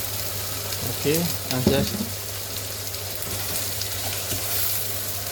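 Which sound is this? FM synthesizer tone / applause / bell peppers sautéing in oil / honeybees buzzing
bell peppers sautéing in oil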